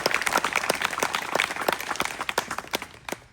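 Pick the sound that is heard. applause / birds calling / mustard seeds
applause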